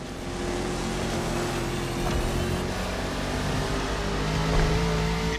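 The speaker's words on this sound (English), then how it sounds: "You're driving my #1 car, the star of my collection, the 1969 Mustang Boss 429" Engine of a 1969 Mustang Boss 429 muscle car in The Crew Motorfest racing game, a steady loud drone that holds throughout with a slight swell near the end, mixed with other game sounds.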